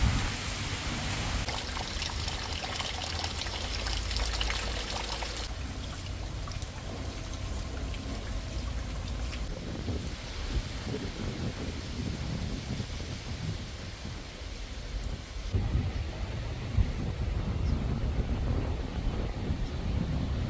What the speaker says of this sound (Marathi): आणि आता पुन्हा पाऊस चालू झालेला आहे